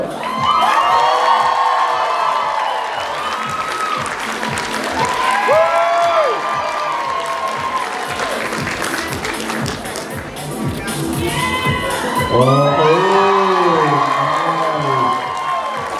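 An audience at a cosplay contest cheers, whoops and applauds loudly and continuously, with clapping throughout, shouts rising over it, and a voice talking through the crowd.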